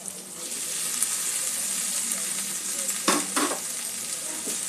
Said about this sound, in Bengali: এখানে গোটা মুগটা দিয়ে দেবো